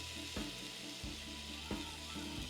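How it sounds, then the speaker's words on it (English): Lamb chops searing in a hot oiled skillet, a steady close sizzle and crackle running throughout, with a few soft bumps as pieces settle into the pan. "If we don't hear that sizzle, then our skillet's not ready for our lamb chops."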